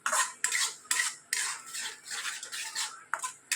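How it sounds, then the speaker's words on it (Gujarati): A metal spoon scrapes and clinks against a pot while stirring poha with lemon juice and sugar, in repeated strokes of about half a second each, close and fairly loud, with no voices. "લીંબુ અને ખાંડ બધું સરસ ઓગળી જાય એટલે સરસ મિક્સ કરી દઈએ."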